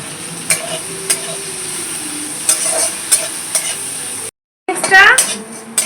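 Food fries in a pan under a soft sizzle while a utensil scrapes and knocks against it in irregular stirring strokes, then a brief gap before a clattery burst.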